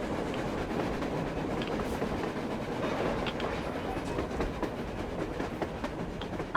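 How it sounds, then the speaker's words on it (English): Steady rumbling clatter of a train rolling along rails on the surface in the video game Metro Exodus, continuous and fairly loud throughout with no voices over it. "A train! A damn train on the surface!"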